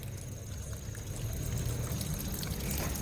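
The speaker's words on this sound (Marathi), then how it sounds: "नळच मोडला आहे" Water runs and pours from a broken tap in a steady, fairly close rush with a faint high whine, and there is no speech.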